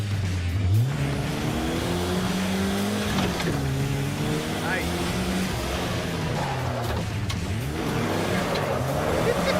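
A 1975 AMC Gremlin revs hard and accelerates through power shifts, its engine note climbing, dropping at each gear change and climbing again, loud and close for the whole stretch.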